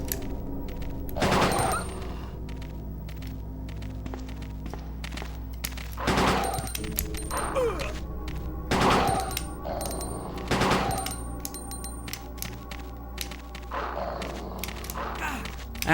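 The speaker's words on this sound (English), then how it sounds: "this would be an ideal time to put the gun on auto." Automatic weapon fire in Resident Evil 2 sounds as several short bursts of rapid shots with thuds, loud and close, spaced apart over a low continuous game background.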